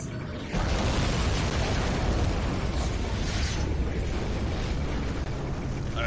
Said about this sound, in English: Nuclear strike imminent. 8, 7, 6, 5, 4.